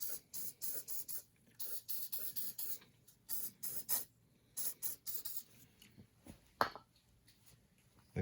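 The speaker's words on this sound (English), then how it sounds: "we'll spray some lube from this side as well" Short hissing bursts of lubricant spray aimed at a seized piston in a 1948 Ford 337 flathead V8 engine block, coming in repeated quick puffs with brief gaps between them, close by and fairly quiet.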